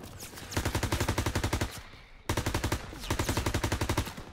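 A machine gun fires from a hayloft in Call of Duty WW2, two loud rapid bursts of evenly spaced shots, each lasting over a second, separated by a short lull.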